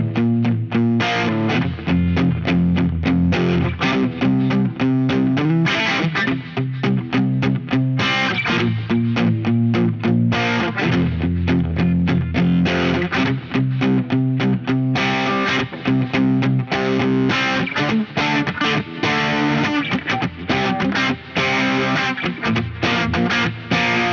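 An electric guitar through an ODR1 overdrive pedal plays chords and riffs with crunchy overdrive, loud and continuous for the whole stretch, with no voices.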